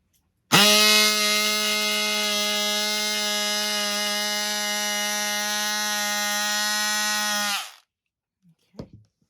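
An electric fabric cutter slices through denim with a loud, steady buzzing motor drone that lasts about seven seconds and then cuts off, followed by a few faint clicks.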